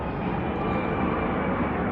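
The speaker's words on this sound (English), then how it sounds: "Plane flying over." A fixed-wing airplane passing overhead outdoors, a steady broad roar at moderate loudness with no talk.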